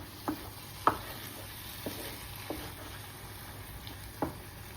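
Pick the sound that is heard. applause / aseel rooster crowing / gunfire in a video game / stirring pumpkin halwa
stirring pumpkin halwa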